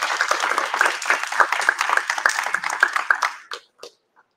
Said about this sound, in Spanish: Aplausos, Diego, por favor, para el ingeniero.